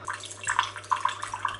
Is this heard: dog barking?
no